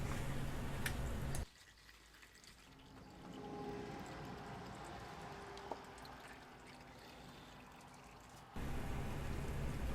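Engine oil drains steadily from a 2019 Hyundai Kona into a pan below, a faint, continuous trickling pour heard alone between louder stretches at the start and end.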